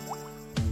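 Egg white drips from a separated egg in a kitchen: two small, soft drips followed by a fuller wet plop as the drop lands, close and quiet.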